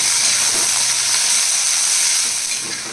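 Chopped eggplant and potato frying in oil, a loud continuous hiss and sizzle that softens slightly at the end, no voices.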